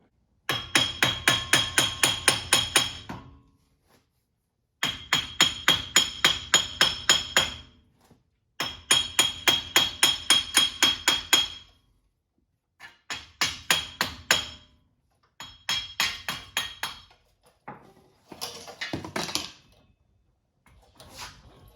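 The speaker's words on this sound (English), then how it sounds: "get a little rubber mallet or even a sledgehammer and give it a little love tap" Rapid, loud metallic hammer blows strike a 2004 Jeep Wrangler TJ wheel hub assembly, coming in several quick rhythmic bursts of ten or more hits each, separated by short pauses, up close with no talk.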